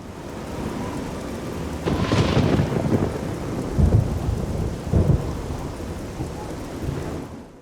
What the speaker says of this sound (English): the thunderstorm sounds incredible